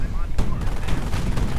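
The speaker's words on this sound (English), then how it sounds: "Now the armored car joins in for a bit of fun as well with this auto cannon." An armored car's auto cannon firing during a World War II real-time strategy battle, rapid loud bursts of gunfire and impacts layered with other battle noise while someone commentates over it.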